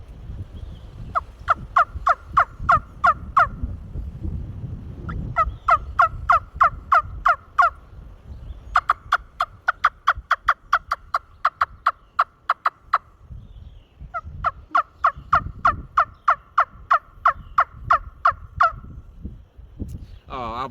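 Close, crisp turkey cuts and clucks from a Wing Wood turkey caller, popped in rapid runs of sharp, evenly spaced notes with short pauses between bursts, standing alone without talk.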